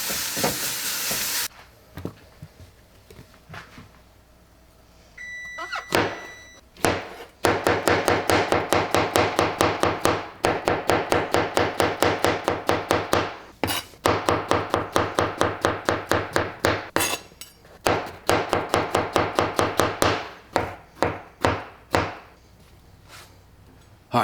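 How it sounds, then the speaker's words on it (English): Knife chopping pizza toppings on a cutting board, in fast rhythmic bursts of sharp close taps with brief pauses between runs. "I've chopped up all the ingredients"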